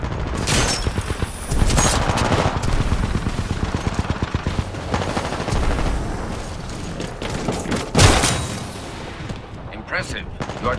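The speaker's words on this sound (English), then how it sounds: "Hostile pilot detected. Splitter rifle on target." Splitter rifle fire from Titanfall 2 multiplayer, dense rapid bursts of gunfire with loud booms and explosions, continuous and close, mixed with game announcer voice.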